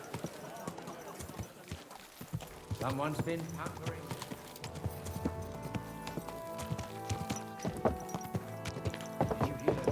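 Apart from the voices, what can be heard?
horse hooves clip-clop in video game Kingdom Come Deliverance 2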